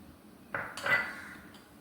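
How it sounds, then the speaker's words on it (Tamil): Milk and idiyappam dough for paal kozhukattai are mixed in a metal vessel, with a utensil scraping and knocking against the side in two or three short clinks and scrapes, close and fairly quiet. "இதை அதை போட்டு மிக்ஸ் பண்ணிக்குவோம்"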